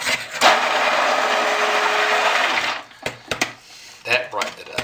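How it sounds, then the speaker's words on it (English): A stick blender whirs steadily through soap batter for about two and a half seconds, a loud close buzzing drone, then cuts off, followed by a few knocks and clatters. "let me just get my stick blender right on top of that"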